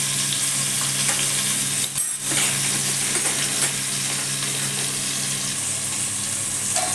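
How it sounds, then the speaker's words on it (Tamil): Onion frying in oil for vegetable rice, a steady close sizzle with occasional stirring scrapes. "வெங்காயத்தை தாளிச்சிடலாம். எண்ணெயில் வதக்கிக்கலாம்."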